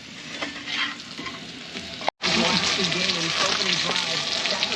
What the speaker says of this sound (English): You hear that sizzling? Potatoes are ready.